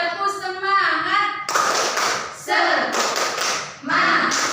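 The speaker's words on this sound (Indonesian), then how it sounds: "1, 2, 3. Tepuk semangat." An elementary school class claps the rhythmic 'tepuk semangat' cheer in quick, patterned bursts, with a teacher and children chanting along between and over the claps.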